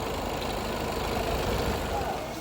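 A Hyundai Verna car engine runs steadily during an engine test, a continuous low idling rumble held close and fairly loud for the whole stretch with no breaks.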